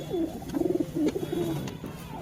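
Pigeons coo nearby in a domestic loft, a few soft rolling throaty calls repeating in short bursts over a quiet background with faint clicks.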